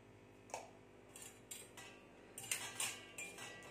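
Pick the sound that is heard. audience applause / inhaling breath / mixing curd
mixing curd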